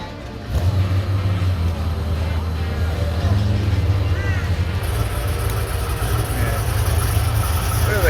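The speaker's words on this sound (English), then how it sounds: "We got the Rover 90 heading out now." A Rover 90 leaves a car club show with a steady low engine rumble close by, running throughout under people chatting nearby.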